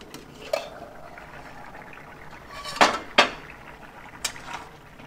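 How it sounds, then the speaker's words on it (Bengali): A metal lid clatters off a pot of boiled potatoes cooking with poppy seed for aloo posto, two sharp clanks close together amid lighter kitchen clinks and a low background hum. "এবার ঢাকাটা খুলি"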